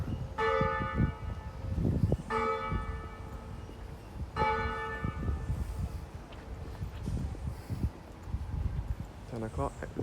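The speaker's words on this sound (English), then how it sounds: "The bell is now ringing for 10 o'clock." Three evenly spaced, ringing strikes of the church bell at St. Michael's Cathedral in Bridgetown, Barbados, each sustaining and fading, heard outdoors under someone talking, with street noise and clattering in the background.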